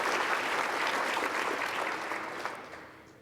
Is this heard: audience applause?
yes